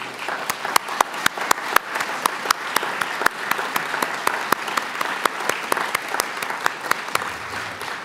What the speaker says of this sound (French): demander à ce public de démontrer leur satisfaction avec un applaudissement nourri